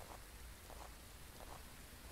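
Steady, soft hiss of rain falling in the horror game Phasmophobia, a continuous even wash with no clear drops or thunder standing out.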